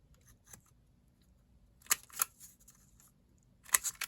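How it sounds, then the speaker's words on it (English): Scissors snip paper to cut index tabs: a faint single snip, then two sharp closely spaced cuts and another quick pair near the end, crisp and close in a quiet room. "I'll make my cuts. Snip, snip."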